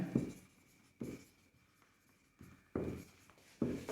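Chalk or marker strokes on a board during a classroom lecture, a few short bursts of scratchy writing spaced out by pauses, close and fairly quiet, with no talking over it.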